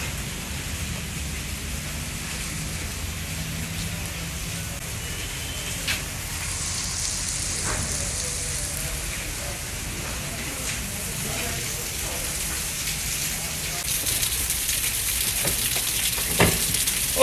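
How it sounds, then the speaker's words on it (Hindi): Heavy rain pours steadily outside a market area, a dense continuous hiss with scattered louder spatters and thumps, and faint voices now and then beneath it. "बारिश बहुत ज़्यादा तेज़ हो चुकी है"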